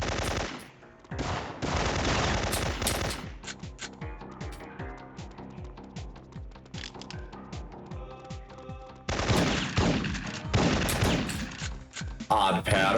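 Rapid automatic gunfire in Syphon Filter crackles in dense bursts, loud and close, with gaps and scattered single shots between volleys, while a voice talks intermittently underneath.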